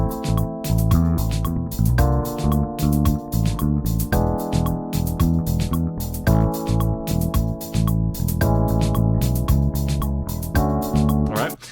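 An electric bass plays a simple repeated rhythm pattern over changing chords for an instrumental jazz fusion piece, the plucked notes steady and prominent throughout.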